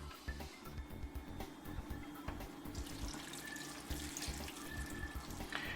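Tap water runs steadily into a pot of bean soup on the stove, a continuous soft splashing stream heard close up at low volume, with no talking over it.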